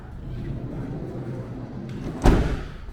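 On a Walden Overland Mini R550 camper van, the shower room door swings shut with one sharp, close thud near the end, after a stretch of quiet room noise.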